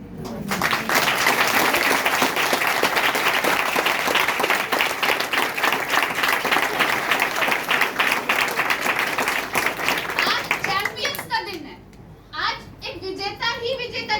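An audience at an indoor business seminar breaks into sustained loud applause with scattered cheers and children's voices, lasting over ten seconds before thinning out and tapering into scattered claps.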